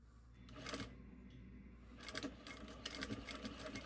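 A sewing machine bastes fabric in place with a back stitch at the start and end, running in short, uneven bursts of close mechanical whirring and clatter with brief pauses between runs.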